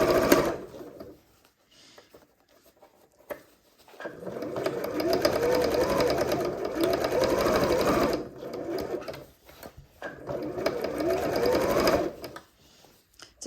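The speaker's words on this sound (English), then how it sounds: "we're going to sew all the way around the top of the bag." A sewing machine stitches around the top of a handmade bag, running in close, loud bursts of rapid mechanical whirring separated by short pauses.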